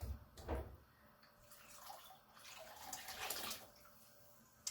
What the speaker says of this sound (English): Be very careful when you're emptying the water out of the jar, because it can splash up and burn you.